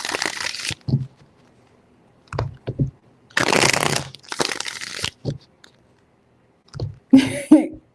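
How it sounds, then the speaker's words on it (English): Tarot cards are shuffled in three separate bursts of crisp riffling close by, with silent gaps between them and a brief voice near the end. "Three shuffles."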